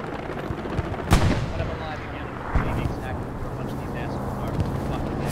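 Gunfire in the World War II game Hell Let Loose, a loud close shot followed by another blast and scattered distant firing over wind-like rumble, with voices talking over it.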